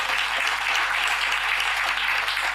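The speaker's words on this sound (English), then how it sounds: "So give yourselves a round of applause." A steady burst of audience applause rises at a live stem cell podcast event, dense and even throughout with no voices heard over it.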